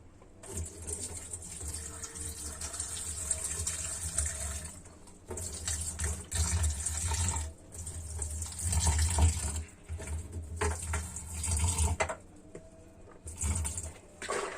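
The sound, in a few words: water rinsing soybean skins away for tempeh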